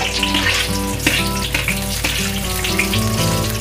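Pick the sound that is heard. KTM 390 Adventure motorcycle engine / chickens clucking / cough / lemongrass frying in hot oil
lemongrass frying in hot oil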